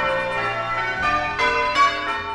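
Church bells ringing out in a town near a castle and church, a sustained bright peal with fresh strikes swelling over the ringing tones, loud and fairly close with no talk.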